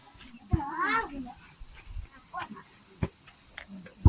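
Crickets chirp as a steady high-pitched drone in a quiet rural setting among native tribes in Occidental Mindoro, Philippines, with a faint voice and scattered small noises underneath.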